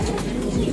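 A pigeon coos nearby in a soft, low, throaty burst, brief and close with no talk over it.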